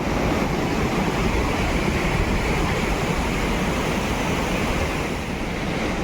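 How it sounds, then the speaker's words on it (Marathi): The Sherpe-Napne waterfall pours in a loud, steady rush of falling water, a dense unbroken roar with no pauses and no voices. "या धबधब्याला वर्षाचे 12ही महिने पाणी असतं."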